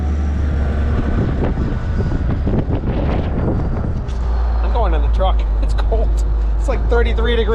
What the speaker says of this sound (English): 33 degrees out, wind blowing hard.